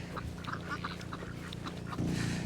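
Several ducks quack in quick, overlapping bursts nearby, a busy chattering chorus over low background rumble.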